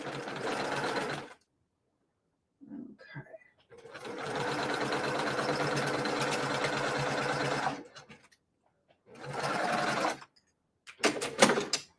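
A sewing machine stitches a quilt block in fast, even bursts of mechanical whirring. Four runs of stitching are separated by short pauses with faint handling sounds.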